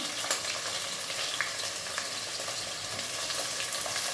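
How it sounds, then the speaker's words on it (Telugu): Green chillies dropped into hot oil sizzle in a continuous bright hiss with scattered pops and crackles, close and steady throughout, with no one speaking. "ఆయిల్ వేడి వచ్చిందండి. ఓకే. పచ్చిమిరకాయలు వేస్తున్నాను"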